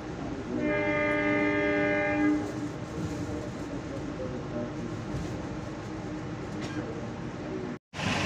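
The Argo Dwipangga train arrives at Cirebon station, its horn sounding a sustained tonal blast early on over a continuous rumble of rolling carriages and station ambience.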